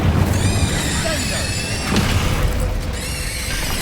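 A fire spell cast in Hogwarts Legacy, a loud sustained burst with rising whooshing tones, followed by a brief low boom near the middle and continuing flame-like roar throughout.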